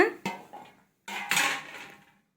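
Green chillies pounded in a mortar for a raw bitter gourd chutney: two separate heavy thuds, each followed by a short clatter and ringing scrape, with a pause between them and no voices.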